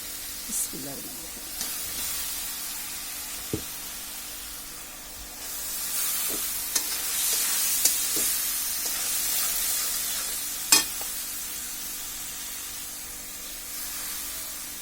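Washed dal lentils sautéed and stirred into spice masala in a pan, a hissing sizzle that swells in the middle of the stretch, with scattered utensil clicks and scrapes.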